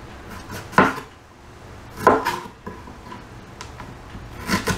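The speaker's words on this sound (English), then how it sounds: "I like to peel it with a spoon because you don't waste as much" Fresh ginger peeled with a spoon, three or four distinct scraping strokes close by, separated by quiet pauses.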